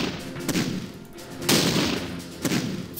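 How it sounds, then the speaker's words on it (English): Tank guns firing in a WWII strategy video game set during the invasion of France before Dunkirk: three heavy booming shots about a second apart, each followed by a rumbling decay, loud and close. "and open fire"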